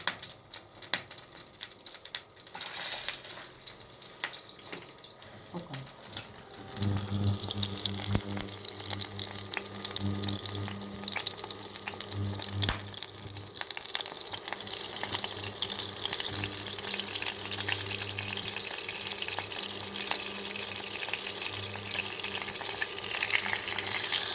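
Continuous crackling sizzle of pangasius fish frying in hot oil in a pan, loud and steady after a few seconds of quieter kitchen handling noise.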